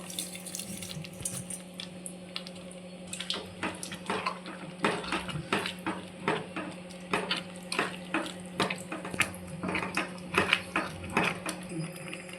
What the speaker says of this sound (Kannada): ಇವಾಗ ಒಗ್ಗರಣೆ ಹಾಕಿರೋ ಮಿಶ್ರಣನ ಇದಕ್ಕೆ ಹಾಕ್ತಾಯಿದ್ದೀನಿ.